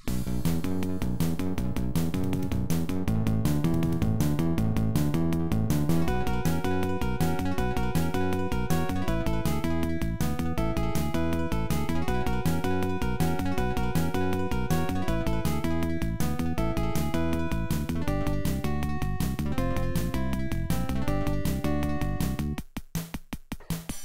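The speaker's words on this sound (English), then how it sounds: "I will set the MIDI emulation to Adlib card or equivalent to Sound Blaster 16." A MIDI file played back through AdLib / Sound Blaster 16 FM synthesis emulation: bright, buzzy chiptune-style synth melody over a steady bass and rhythmic accompaniment, continuous and loud, breaking up at the very end.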